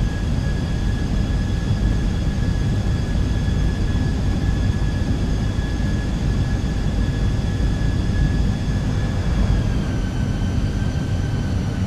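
Steady, loud jet engine roar with a high whine from an Airbus A320 on final approach to land at Aruba in Microsoft Flight Simulator 2020, continuous throughout with no talking.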